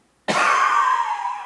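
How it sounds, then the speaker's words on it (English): One sudden, harsh cough bursts out close by and trails off quickly. "I think that cough is a doozy"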